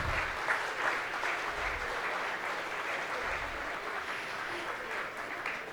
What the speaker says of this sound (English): Why don't we all clap for each other?